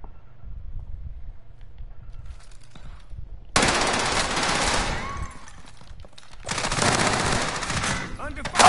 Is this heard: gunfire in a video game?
yes